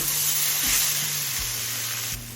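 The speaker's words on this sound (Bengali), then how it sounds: "এবার মিডিয়াম ফ্লেমে আরও কিছুক্ষণ ভেজে নেব সবজিগুলো" Vegetables fry on a medium flame in a pan, a steady close sizzle and hiss throughout, with a few soft stirring knocks, alone and without talk.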